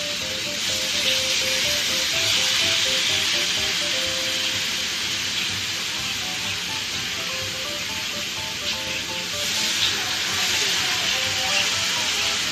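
Steaks going into a greased pan, giving a steady, continuous hiss and sizzle that holds evenly from start to finish with no talking over it.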